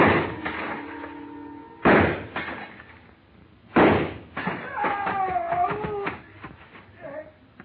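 Gunshots and shattering glass from a glass store showcase in an old CBS radio drama, with two sharp loud bangs about two seconds apart followed by crashing, clattering debris and ringing glass tones, amid music and background sound.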